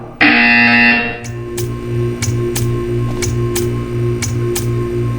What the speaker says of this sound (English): You will hear a buzzer. When you hear the buzzer,